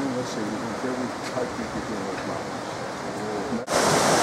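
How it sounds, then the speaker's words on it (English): Steady broadband roar of Torc Waterfall in Killarney National Park, Ireland, rushing continuously close by, with a sudden louder, brighter surge of water noise near the end. "This is Torc QRC waterfall, the highest waterfall in Ireland in this particular section."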